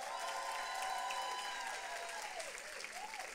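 A church congregation applauding and clapping for Jesus during a Sunday service, a sustained wash of many hands clapping at moderate distance, with faint voices and a sung or called tone drifting through.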